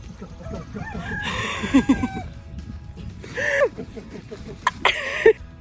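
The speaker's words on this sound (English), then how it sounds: "they're Ayam Samani chickens, which are from Indonesia" Ayam Cemani roosters crow loudly twice amid steady clucking from a flock of Ayam Cemani chickens, with occasional talking in the background.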